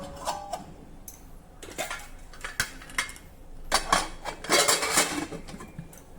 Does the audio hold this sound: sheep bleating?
no